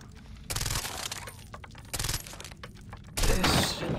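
Gunfire in the video game Far Cry 3, aimed at poles, coming in three loud bursts of rapid shots separated by short gaps, with clinking and breaking sounds and game ambience between them.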